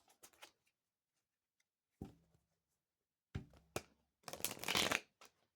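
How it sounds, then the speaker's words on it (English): Tarot cards are shuffled close up in quiet, scattered bursts of riffling and tapping, ending with a longer, louder flurry of shuffling. "I think I'll do a couple more shuffles"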